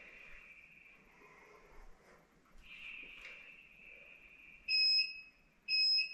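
A workout interval timer counts in with two loud, piercing electronic beeps near the end, after a faint steady tone and low background noise.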